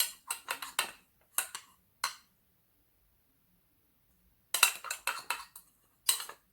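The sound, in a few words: stirring a mixture in a bowl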